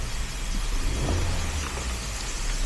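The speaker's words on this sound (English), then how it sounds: "Rev it up a little bit." A 2018 Honda Civic engine with a cylinder misfire revs steadily up close, a loud continuous rumble with uneven, stumbling pulses running throughout, and no voices.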